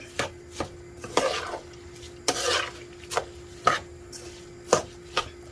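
Rice stirred in a pot with a utensil that knocks and scrapes, about a dozen sharp taps and rasping scrapes at an irregular pace, close and fairly loud, over a faint steady hum.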